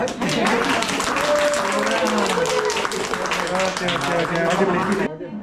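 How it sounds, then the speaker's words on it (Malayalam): Audience at an Onam celebration breaking into applause, dense sustained clapping mixed with cheering voices that continues loudly before stopping abruptly near the end. "കയ്യടി പോരാട്ടാ"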